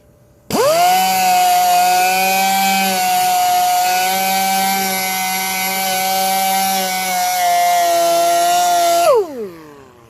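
A power sander with 800 grit paper works a deep gouge on the side of a Porsche wheel. It gives a loud, steady, high-pitched whine for about eight seconds, then spins down and fades at the end.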